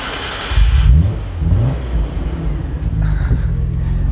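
A Nissan Skyline GT-R R34 V-Spec engine revs in several short bursts, rising sharply and falling back toward a low idle, loud and close with no voices.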